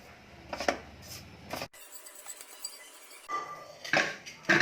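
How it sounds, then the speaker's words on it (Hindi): Roasted whole-wheat flour mixture for gond laddoo is scraped from the pan into a bowl, with intermittent metallic clinks and scrapes of utensils on cookware and quieter gaps between. "अब गैस करेंगे बंद और इसको एक बोल में ट्रांसफर कर लेंगे"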